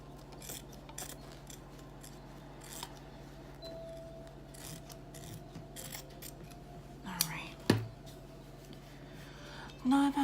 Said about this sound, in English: I'm gonna go ahead and cut this fabric so that I am able to work with it just a little bit better